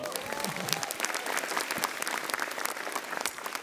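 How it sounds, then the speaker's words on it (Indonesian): A stand-up comedy audience claps in loud, dense, sustained applause that fills the whole stretch evenly, with no talking over it. "Universitas Indonesia, tepuk tangan dong."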